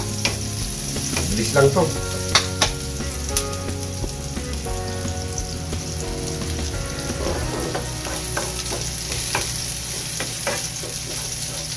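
Pork chops fry in a pan with a steady dense sizzle and crackle throughout, occasional pops and utensil clatter breaking through, and a brief voice near the start.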